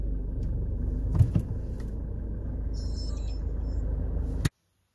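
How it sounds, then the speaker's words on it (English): A Land Rover Freelander 2 idles with a low steady engine rumble close by, with a couple of brief clunks midway, then cuts off abruptly. "I'm going to start this car and move it out."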